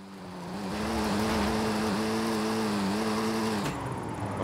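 Volkswagen Golf R engine, drift-tuned, in Forza Horizon 5, holding a loud sustained high-revving drone with slight pitch wobbles, then a quick dip and return near the end.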